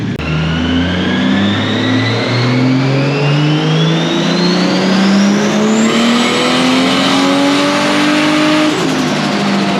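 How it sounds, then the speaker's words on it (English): A loud turbocharged Toyota Supra engine revs hard on a dyno and climbs steadily in pitch, droning continuously near and close, with a harsh roar and rising whine throughout. "There's nothing like hearing a car in the dyno right in front of you"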